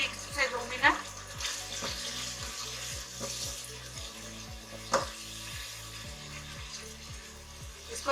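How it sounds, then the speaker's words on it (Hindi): Beef karahi frying in a pan with chilli, salt and turmeric, a steady sizzle broken by regular scraping stirs, close and fairly loud, with a brief voice in the background. "इसको इतना भूनेंगे कि इसका ऑयल ऊपर आ जाएगा।"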